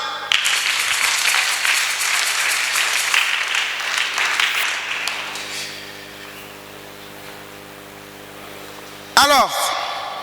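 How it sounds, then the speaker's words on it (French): A church congregation applauds during a Sunday service, a broad, steady clapping wash for several seconds that then fades to a quieter room, followed by a brief sharp sound near the end. "On acclame."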